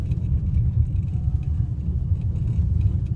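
A car drives along a road laid on an old streetcar interurban right-of-way, giving a steady low rumble of engine and tyres from inside, with faint small rattles and no talk.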